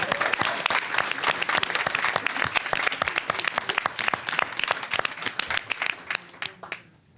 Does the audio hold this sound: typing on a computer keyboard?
no